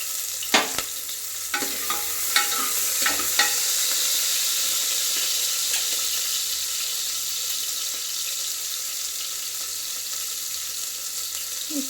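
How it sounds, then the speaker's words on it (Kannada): Onions frying in oil for a tempering, a steady sizzle throughout, with a few sharp stirring clinks near the start and no voices. "ಸ್ವಲ್ಪ ಬೇಯಬೇಕಾಗುತ್ತೆ ಎಣ್ಣೆಲಿ ಈರುಳ್ಳಿ"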